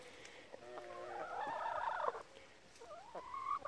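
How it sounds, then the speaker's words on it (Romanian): Laying hens cluck and squawk in a quick, uneven run, fairly close and a little rough, with a short pause before more calls. "Sunt găini de ouă."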